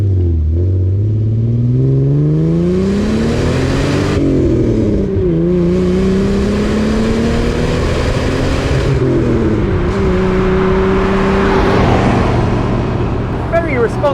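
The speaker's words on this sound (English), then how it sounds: "the moment you touch that throttle, it responds. It also sounds really, really good." A Fiat 130's engine revs under throttle, its pitch climbing, dipping and climbing again in repeated surges. The drone is close and loud and fills the whole stretch.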